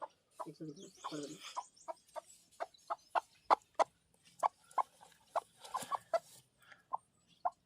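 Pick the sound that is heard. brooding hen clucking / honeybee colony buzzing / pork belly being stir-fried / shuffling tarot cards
brooding hen clucking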